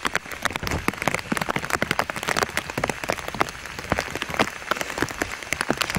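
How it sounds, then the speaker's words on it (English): Pouring rain on a pitch-black, cold and windy night, with dense, rapid patters and splats striking close by in a continuous downpour. "pitch black, it's cast over skies, there's no moonlight or nothing, and pouring rain, cold and windy"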